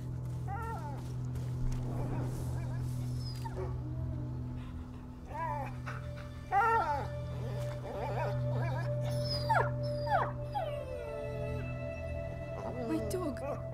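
A dog in the video game A Plague Tale: Innocence whimpers, yips and howls in repeated rising cries over a steady low in-game drone, with a voice speaking in between.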